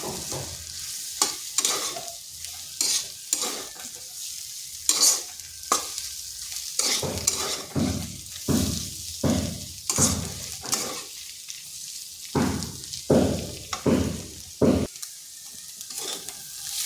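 A potato mixture with egg is stirred and fried in a pan, producing repeated rhythmic scraping strokes over a continuous sizzle, close and fairly loud, with no voices.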